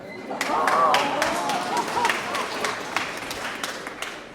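Audience at a symphonic concert of the Festival Intervalles applauds steadily, the clapping swelling early then continuing at an even level, while a few voices carry faintly over the crowd.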